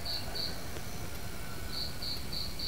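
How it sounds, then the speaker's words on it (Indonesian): A cricket chirp recording played from an MP3 gives bright, high repeating trills in clusters, a pulsed chirp over a steady hissy background, continuous and moderately loud. "eksperimen menggunakan suara jangkrik dari MP3 ya"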